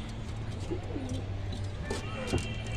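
Pigeons coo softly nearby in a loft, low murmuring calls repeating over a constant background hum.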